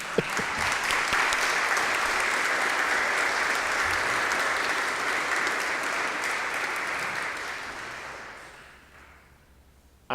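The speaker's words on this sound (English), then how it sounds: "And I think we better clap for them." An audience at a Sunday church service claps for fathers, a dense sustained round of applause that holds steady for about eight seconds before tapering off into near silence.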